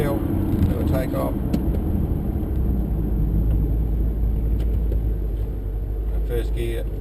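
A VE Commodore ute fitted with a 4L80 automatic transmission pulls away from a standstill, its engine a steady low rumble heard from inside the cabin, fairly loud and continuous throughout.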